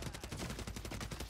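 Video game gunfire in Warzone Rebirth, heard as a rapid automatic burst of evenly spaced shots, steady and dense for over a second at moderate loudness with no talking.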